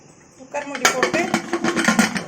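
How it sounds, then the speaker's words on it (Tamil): Metal clattering as the lid goes onto a pressure cooker in a home kitchen, with a few sharp clinks and scrapes of the pot and lid after a quiet start. "குக்கர் மூடி போட்டு"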